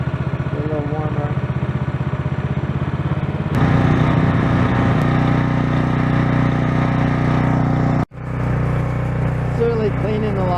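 Small gas engine of a Stihl RB800 pressure washer runs steadily while warming up, its throttle rising to a louder, harsher drone partway through, with a brief sharp cutout near the end before it resumes.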